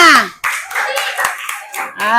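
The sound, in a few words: clapping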